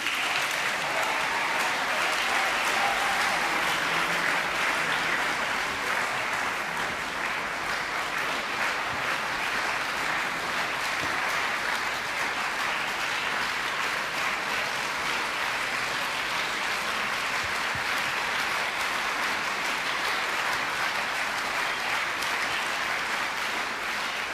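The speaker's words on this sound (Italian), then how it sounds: "Nos accompagnain als dus poets con un applaus giù dalla tribuna." Audience in a tribune at a Romansh song festival composition contest applauding two poets, sustained dense clapping from a large crowd that stays loud and even throughout without speech.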